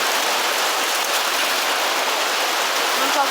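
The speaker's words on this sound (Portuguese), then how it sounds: "a chuva tá muito forte" Heavy rain pours down in a constant, dense hiss, loud and close. The steady roar of drops on surfaces fills the whole stretch without pause, and no voices rise above it.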